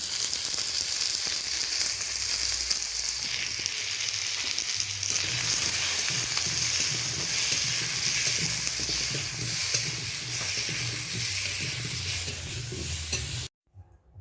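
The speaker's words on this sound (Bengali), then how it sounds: "হালকা লবণ হলুদ দিয়ে আলুগুলো ভেজে নিচ্ছি।" Potato pieces sizzling in hot oil with salt and turmeric, a steady loud frying hiss with occasional stirring scrapes that continues unbroken before cutting off abruptly near the end.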